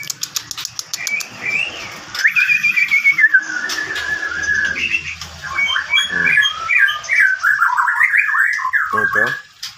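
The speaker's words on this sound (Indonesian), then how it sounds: "Ini lumayan gacor sih kalau untuk Murai Batu" A white-rumped shama (murai batu) sings inside a breeding cage, a near, varied run of whistled phrases, trills and squawky notes that continues almost without pause.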